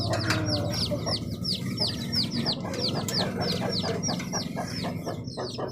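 Aseel hens and chicks on a poultry farm give a busy run of high, repeated peeping chirps over low, soft clucking. The sound is close and continuous, with faint voices in the background.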